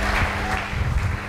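A church congregation claps and cheers at a French-language sermon, a dense, steady wash of applause filling the room for a brief moment with no voice on top.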